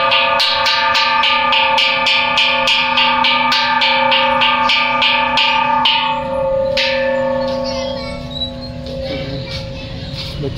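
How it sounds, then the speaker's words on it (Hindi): A large, heavy peace bell at a heritage site is struck rapidly again and again, ringing loud and close with a long sustained hum, then its blows fade out to a lingering resonance. "घंटी का नाम है अमन की घंटी"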